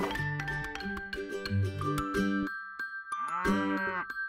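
A cartoon cow moos in a drawn-out, pitch-bending call beneath bright background music, a second moo rising after a short gap near the end.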